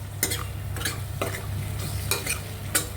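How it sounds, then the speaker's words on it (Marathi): Tomatoes with salt sautéing in a pan for Vidarbha-style dal bhaji, a soft steady sizzle under several sharp scrapes and clinks of a spatula stirring against the metal. "मीठ टाकून थोडं पुन्हा अजून परतून घेऊया"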